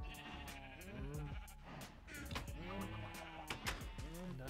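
Minecraft sheep bleat repeatedly in the blocky game world, several overlapping calls sounding in irregular bursts at moderate loudness against a steady background hum.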